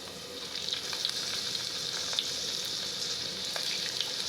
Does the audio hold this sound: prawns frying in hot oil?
yes